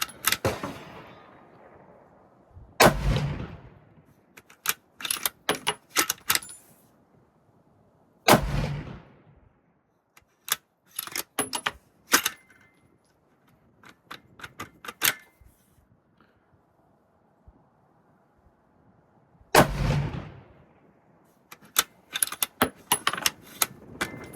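Sharp, loud rifle shots from a Ruger American Predator firing 123gr HPBT rounds ring out in scattered groups, each crack followed by a brief echo and quiet gaps between strings of fire.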